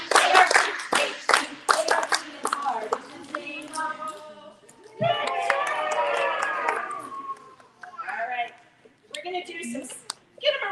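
Children clapping along to a letters song at a story time session, a quick burst of sharp, irregular hand claps at the start, followed by sung and spoken voices.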